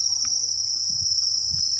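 Honey cricket breeding stock chirping close by in a rearing setup, with a steady high-pitched trill running throughout and a few soft low knocks underneath.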